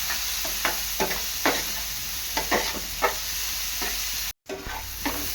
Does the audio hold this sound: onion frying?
yes